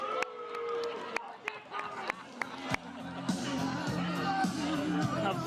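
A boxing crowd at a live event in Ayrshire gives a boxer a mixed reception, with a steady roar of voices, chatter and jeering, punctuated by sharp knocks, and a voice heard over the noise.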